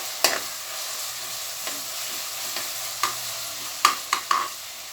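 Onions and spices sautéing in a pan for chicken biryani, a steady close sizzle broken by several sharp scraping stirs of a spoon against the pan, with no talk.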